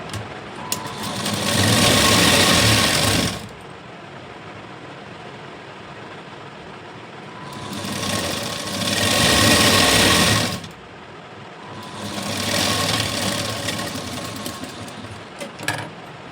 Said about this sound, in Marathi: आता एक शिलाई देऊन घेऊया